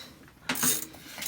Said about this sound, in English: we have to use a 3 or 4 pound hammer hitting on the ratchet to break this nut